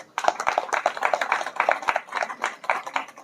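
An audience at an Islamic community gathering claps hands together in a brisk, steady, fairly dense patter lasting a few seconds, moderately loud and close.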